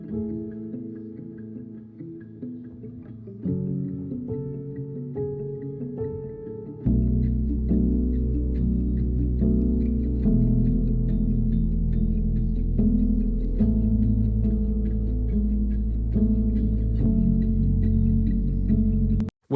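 Instrumental acoustic pop cover of a song in a sad arrangement, with left and right rubber bridge guitar parts entering at the second chorus; steady strummed and plucked chords build fuller and louder after a few seconds, no voices.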